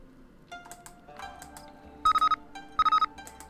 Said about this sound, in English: Oh, got a phone call.